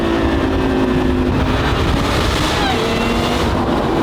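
A thin supercharger whine rises and falls at wide open throttle over heavy wind buffeting and engine rumble, as if heard from inside a fast-moving car.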